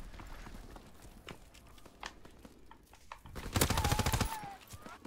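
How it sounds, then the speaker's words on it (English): Friendly gunfire in Call of Duty WW2 on PS4: scattered single shots, then a dense close burst of automatic fire near the end over a busy game background. "I've got friendly shooting at me"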